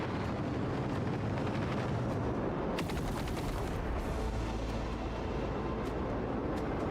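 Sustained, loud barrage of explosions and gunfire-like blasts from torpedoes being destroyed in space combat in Warhammer 40k: Rogue Trader, dense and continuous with a sharper burst of impacts midway.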